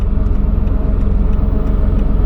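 Engine of a 1970 Porsche 911E coupe running while driving, a loud, close, steady low throb with an even pulsing beat and little change in pitch.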